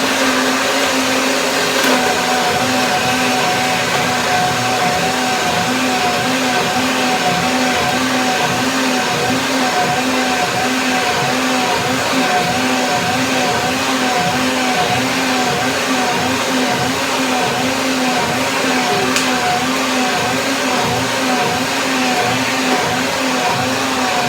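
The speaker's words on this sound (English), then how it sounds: "And blender dance" A countertop blender whirs steadily at full power, blending a thick mango and spinach smoothie with coconut water, a loud continuous motor drone with no speech.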